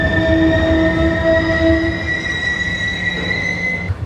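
Metro train pulling in as a stage sound effect in an Egyptian theatre comedy, loud rumble with sustained squealing wheel tones that cut off near the end, no voices.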